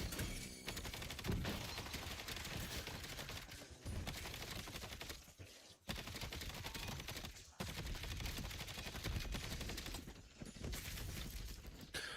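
Rapid, dense gunfire in Call of Duty, continuous loud bursts broken by a few brief gaps, rattling close and harsh.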